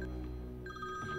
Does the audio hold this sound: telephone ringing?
yes